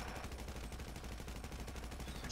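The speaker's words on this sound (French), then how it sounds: "Vois des coups de feu au loin" Distant gunfire in a video game, a dense crackle of shots and bursts rolling on steadily and fairly faint throughout.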